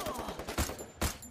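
Rapid gunfire from the mobile shooter game Free Fire, a fast rattling burst of shots capped by two heavier blasts, loud and close in the game mix with no talk over it.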